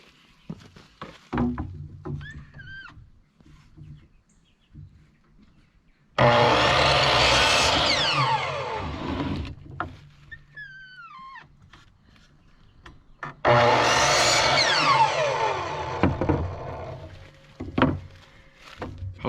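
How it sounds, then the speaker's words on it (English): A miter saw cuts wood for chicken coop windows in two loud bursts, each with a rising whine as the blade spins up and bites through the board, separated by quieter shop sounds and brief thuds. "Broke out the miter saw, no major adjustments there."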